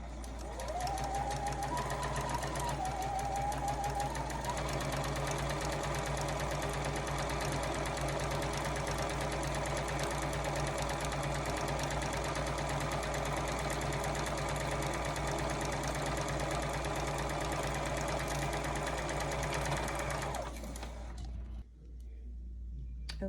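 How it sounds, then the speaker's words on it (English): A sewing machine runs steadily for about twenty seconds, a continuous mechanical whir with a rapid stitching rhythm as it sews along a shoulder strap edge, close up, then stops abruptly. "I'm going to sew along this edge of the shoulder strap"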